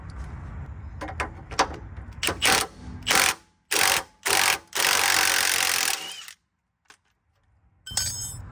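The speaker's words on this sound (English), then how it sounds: "To remove the bottom of the end link, we'll have a 19mm wrench on the right side and 18mm socket on the left." Wrench and socket unbolting a suspension end link on a Tahoe/Yukon: rapid ratchet clicking builds into several loud, sustained bursts of an air tool spinning the nut close by, then a short silence before more clattering.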